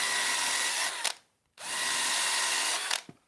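A power drill drives screws into timber for a shelving bracket, two sustained whirring bursts of about a second each with a short pause between, loud and close with no talk.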